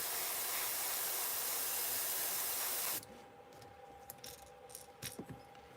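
Airbrush spraying paint onto a fishing lure stencil, a loud continuous hiss for about three seconds that cuts off, followed by faint clinks and light handling noises.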